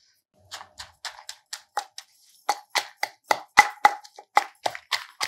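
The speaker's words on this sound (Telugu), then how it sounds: "ముందు కొంచెం మిరపకాయలు అవి మెత్తగా నలిపేద్దాము" Chillies being crushed for a chutney, a series of sharp, close pounding knocks in uneven bursts with brief pauses, fairly quiet, no speech.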